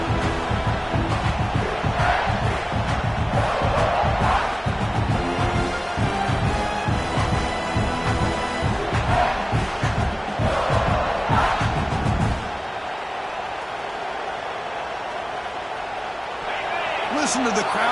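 Loud, dense stadium crowd roar in a Madden football video game, with rhythmic chanting and swells, steady for most of the stretch before dropping to a quieter murmur near the end.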